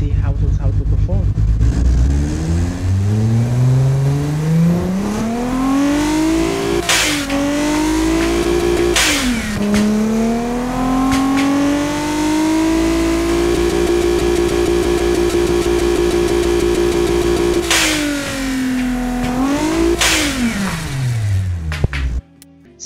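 A tuned GMC 351ci V6 in the Automation game revs up repeatedly, climbing in pitch, dropping briefly at shifts, then holding a loud sustained howl before falling away at the end.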